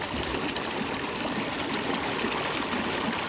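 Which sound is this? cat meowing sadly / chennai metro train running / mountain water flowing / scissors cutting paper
mountain water flowing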